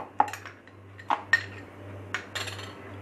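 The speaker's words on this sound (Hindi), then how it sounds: "अभी हम इसमें आइस क्यूब्स मिक्स कर देंगे" Several sharp clinks and knocks of ice cubes striking a blender jar, spaced irregularly over a faint steady hum, while making a banana milkshake.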